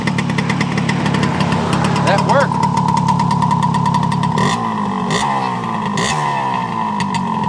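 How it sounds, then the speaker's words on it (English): A 1972 Kawasaki G3SS 90 motorcycle engine idles with a loud, rapid, steady putter, then revs and settles, while a person speaks briefly over it. "It runs and rides like a brand new motorcycle."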